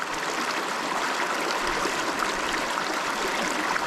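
Water in a stream rushes steadily through a gold sluice box in Douglas County, Oregon, a continuous close hiss and gurgle with no speech.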